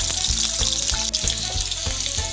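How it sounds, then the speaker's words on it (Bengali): Loud, steady sizzling of potatoes frying in hot oil in a wok, with faint rhythmic stirring scrapes every half second. "কড়াই তেল দিয়ে দিলাম প্রথমে আলুটা ভেজে নেব"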